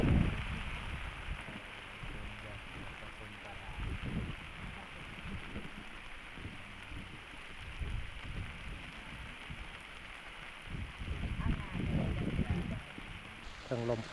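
Heavy rain falls at night in the countryside, a dense, steady wash of drops hitting surfaces with uneven surges in loudness, fairly distant and soft, and a voice speaks faintly under it.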